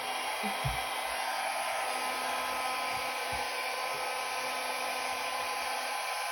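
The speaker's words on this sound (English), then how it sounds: "I'm just going to grab my blow dryer, and on the low cool setting" A hair dryer on its low cool setting blows with a steady, even whoosh over fluid art paint, close and constant, with a couple of soft bumps at low volume.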